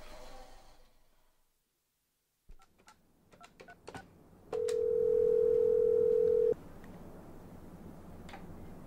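A telephone in a radio drama: a stretch of quiet, then a few ticks and clicks like a handset or dialing, followed by a loud steady two-second ring tone over a low background hum.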